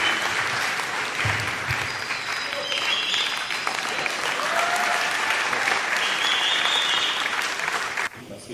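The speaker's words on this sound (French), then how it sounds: "Est-ce qu'on peut applaudir?" Applause fills the hall at a European film festival, a continuous crowd of hands clapping at steady volume with faint background tones, then dropping away abruptly near the end.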